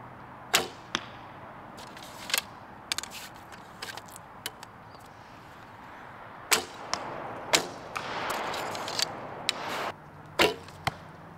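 Several shots from a Three Kingdoms Zhuran bow by AF Archery ring out as crisp string snaps and arrow thuds, spaced irregularly over the stretch, close and clear against a quiet outdoor background with no voices.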